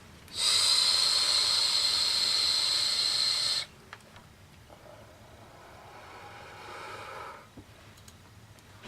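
A long, loud hissing inhale from a vape lasting a few seconds, followed by a softer, steady breathy exhale, both close to the microphone.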